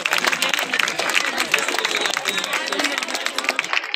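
A crowd at an office inauguration ceremony in Bundi claps loudly and densely for a guest, with a voice speaking over the dense applause.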